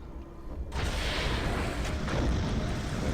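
Torpedoes launch from a submarine in the Silent Hunter III video game, a sudden deep boom followed by a sustained, loud rumbling wash that lasts several seconds, with no talking.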